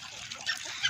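Ducks on an open-field duck farm call out in short, nasal honking quacks, several overlapping close by in a quick burst.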